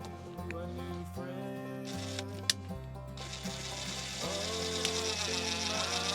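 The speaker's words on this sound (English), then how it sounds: "So now I can screw in the switch, and I'm done," Screw being driven in to mount an awning safety switch on a Winnebago Revel camper van, a close run of clicking, ratcheting mechanical turns and soft creaks with no talk over it.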